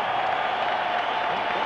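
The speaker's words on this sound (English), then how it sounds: "how about a round of applause for these 2 heavyweights in the ring here tonight" An arena crowd applauds two heavyweight boxers in the ring after their bout, a steady, even wash of clapping with faint cheering heard from a distance.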